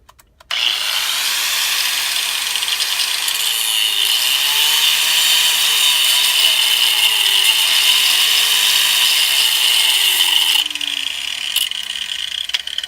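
Angle grinder cutting the old fittings off a lay-flat discharge hose, running steadily and loudly for most of the stretch with a harsh, continuous whine, then easing off near the end.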